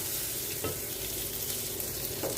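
Steady crackling sizzle of cumin seeds frying in hot oil, continuous and close, with a couple of brief clinks partway through.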